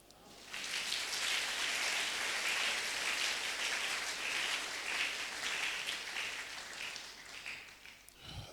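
A church congregation applauds and cheers in response to a call during a worship service: a dense, steady wash of clapping that holds for about eight seconds before tapering off near the end.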